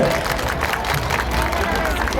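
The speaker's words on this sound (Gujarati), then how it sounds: "જોરદાર તાળીઓથી વધાવી લઈએ આપણે" Guests at a mass wedding in Vatva, Ahmedabad applaud a guest with dense, steady clapping and crowd noise.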